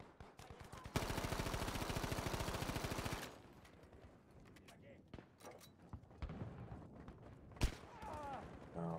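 Gunfire in Battlefield 5: a sustained rapid machine-gun burst of about two seconds, then scattered single shots, distant explosions and battle noise, with a sharp loud crack near the end.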